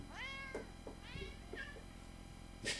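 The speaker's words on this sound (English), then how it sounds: "I do love that cat." Pet cat meowing close by indoors, three drawn-out rising-and-falling meows with short pauses between, followed by a brief burst of rustling at the end.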